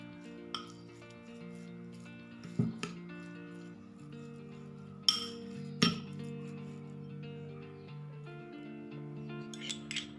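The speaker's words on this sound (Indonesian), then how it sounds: "Kemudian aku aduk rata seperti ini." Steady scraping and clinking of a utensil against a bowl as a seasoned chicken mixture for fried dumplings is stirred, with a few louder knocks, no voices.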